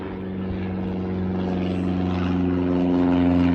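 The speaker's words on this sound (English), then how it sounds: "what is with these planes tonight?" Airplanes passing overhead at night give a steady, close, low droning hum that swells slightly louder over a few seconds, heard alone with no talking.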